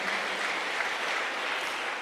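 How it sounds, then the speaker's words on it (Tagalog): A church congregation at a JMCIM preaching service applauds: a dense, even wash of many hands clapping at once, holding steady for a couple of seconds. "Malakas na palakpak muna para sa mahal na Panginoon."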